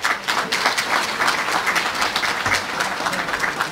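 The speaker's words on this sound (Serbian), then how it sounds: "Ovo je zaista da služi jedan veliki aplauz" A hall audience at a youth party assembly breaks into loud, sustained applause, dense overlapping clapping that stays steady throughout with no speech over it.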